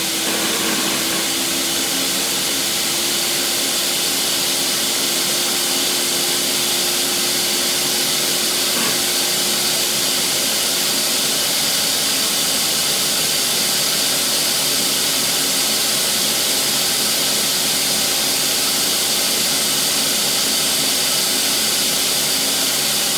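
A Ninja blender running at its highest speed gives a loud, constant motorized roar with a steady whine throughout, unbroken and with no talking.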